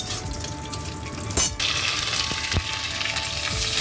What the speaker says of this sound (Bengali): আর এর সাথে কাজু বাদামটা ভেজে নেব